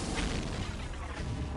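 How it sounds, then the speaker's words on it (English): Dense, continuous battle din of Tyranid explosions in the Dawn of War Ultimate Apocalypse strategy game: loud rumbling booms and artillery-like blasts overlap without pause through the whole short stretch. "Tyranid explosions"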